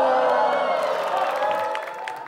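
A studio audience on a dating game show cheers loudly, a dense wash of voices and whoops with some clapping, strong at first and tapering slightly.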